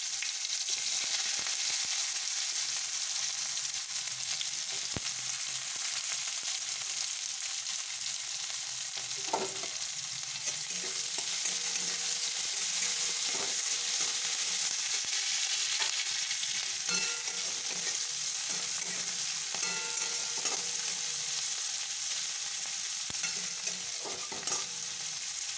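Cumin seeds and onions frying in hot oil give a continuous bright sizzle with stirring scrapes and occasional utensil taps, steady and close with no talking, while potato chatpata is being made.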